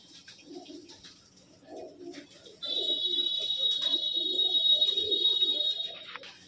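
Soft, repeated coos from Punjabi Malwai pigeons bubble along low and close, joined midway by a steady high-pitched electronic tone that holds for several seconds.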